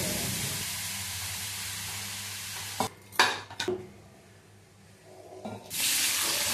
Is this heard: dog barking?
no